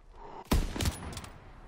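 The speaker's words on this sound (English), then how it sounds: "Great shooting, Daniels." Gunfire from the World War II shooter game Call of Duty WWII, set at the Battle of the Bulge: a sharp loud burst of shots followed by a few more rapid cracks, then fading rumble.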